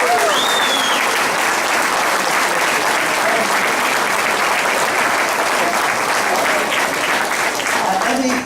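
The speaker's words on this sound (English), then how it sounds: "So let's give them a round of applause." A political campaign event audience applauds steadily and loudly throughout, dense continuous clapping from a large crowd with no break.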